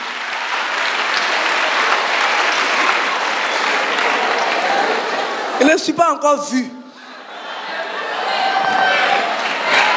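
Audience at a retreat for unmarried people cheers and applauds in a dense, sustained wash, with a speaking voice over the crowd and a brief burst of louder vocal cheering midway before the clapping swells again.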